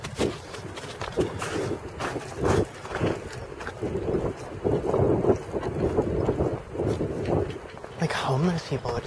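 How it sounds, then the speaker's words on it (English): Strong gusting wind buffets the microphone outdoors, a loud, uneven rumbling roar that surges and drops repeatedly, with people talking underneath. "it's really fucking windy everywhere"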